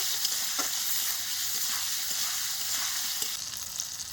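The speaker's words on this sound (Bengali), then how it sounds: "এই টমেটোটা সুন্দর করে আমি ভেজে নেব" Tomatoes frying in a pan give a steady, bright sizzling hiss close by, with a few soft stirring taps and no voices throughout.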